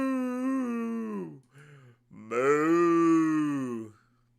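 A voice imitates a cow mooing, giving two long, drawn-out, low moos separated by a brief pause, loud and close.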